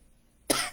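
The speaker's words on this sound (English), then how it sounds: "but I'm still coughing" A single sharp cough from someone speaking, bursting in loud and close after near silence and trailing off briefly.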